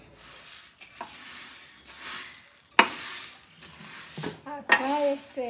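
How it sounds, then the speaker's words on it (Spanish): Coffee beans toasting on a comal, stirred now and then, give soft intermittent scraping and light rustling with brief clattering knocks, close by and fairly quiet. "Terminando de dorar este café"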